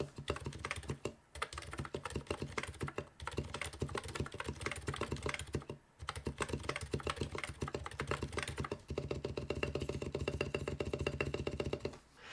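Fast, continuous typing on a full-size custom electro-capacitive (EC) keyboard with adjusted stabilizers, producing dense, deep, thocky keystrokes close up with a few brief pauses.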